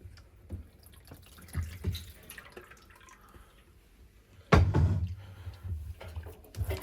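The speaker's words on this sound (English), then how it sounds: "it's draining out now. Slowly, but that's fine." Water draining slowly through three cleared holes in a clogged washing machine door seal full of sludge, with soft drips and trickles, then a louder, steadier gurgling flow partway through.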